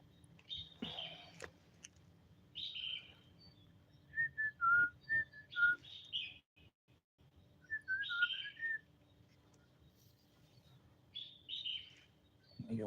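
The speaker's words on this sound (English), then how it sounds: "You want whistling sound?" A person whistles in short melodic phrases with pauses between them, alone against quiet background hum, the pitched tones rising and falling like bird calls.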